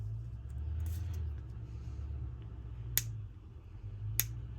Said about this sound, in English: If you can hear a big truck.